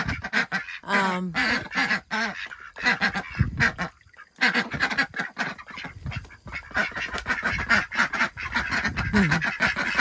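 Farmyard ducks, just fed and watered and squabbling over their water, quack loudly and repeatedly at close range in an uneven, overlapping chorus with a few goose-like honks mixed in.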